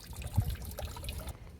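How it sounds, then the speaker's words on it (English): Water trickles and splashes steadily from the dragon fountain at the Butchart Gardens on Vancouver Island, a soft continuous outdoor wash with faint splashes, heard from a moderate distance. "Oh wow, here's the dragon fountain."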